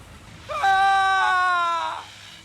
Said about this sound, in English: Scream, weakling.